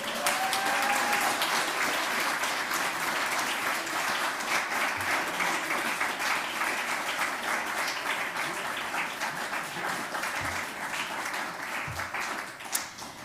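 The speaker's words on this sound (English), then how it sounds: "let's give a round of applause to Mubashir Qurashi" Sustained applause from a conference audience honouring an award recipient at a teaching and learning event: an even, moderately loud patter of many hands that continues for several seconds and gradually tapers, with a few louder individual claps near the end.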